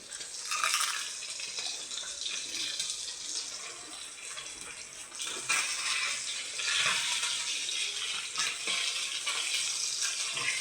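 Papad deep-frying in hot oil gives a continuous dense sizzle and crackle, steady and close, with brief swells of louder hissing and no talk.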